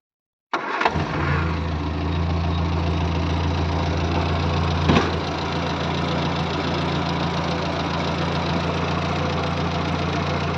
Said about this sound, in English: So that's what a new engine sounds like.